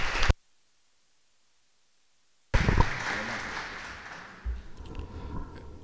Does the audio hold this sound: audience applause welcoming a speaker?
yes